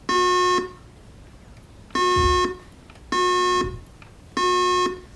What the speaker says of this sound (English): We're going to let the teams buzz in and get used to their new buzzers